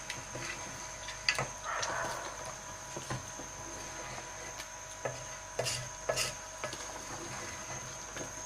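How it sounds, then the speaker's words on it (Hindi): A spoon stirs flour into simmering nihari, scraping and knocking against the pot with steady rubbing strokes and occasional sharper clinks, close by. "अब इसमें हम इस तरह आटा ऐड करते जाएंगे और चमचा चलाते जाएंगे ताकि गुठलियाँ वगैरह ना बने।"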